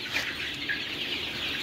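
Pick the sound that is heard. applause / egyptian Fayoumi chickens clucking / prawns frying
egyptian Fayoumi chickens clucking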